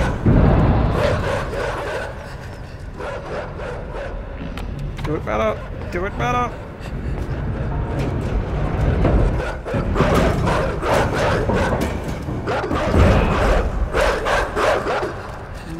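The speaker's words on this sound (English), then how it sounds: "What are all these horrible noises? More dogs! Dogs and then dogs!" Repeated dog barks and yips from the video game Inside come in bursts with game-like sound effects, while a person talks over them throughout.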